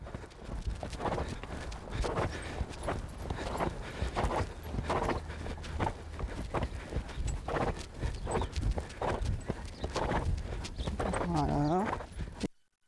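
A six-year-old Selle Français stallion trots with a steady, rhythmic clip-clop of hooves, close by and continuous, while someone talks over it.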